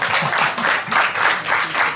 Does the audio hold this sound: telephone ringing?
no